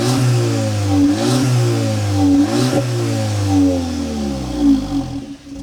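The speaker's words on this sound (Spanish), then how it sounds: "las colas de escape en cromado, que fijaos cómo suena." A Volkswagen Polo GTI 25th Anniversary edition engine revs up and down repeatedly through chrome exhaust tips, a deep loud burbling roar with rising and falling pitch, close by, with no talking.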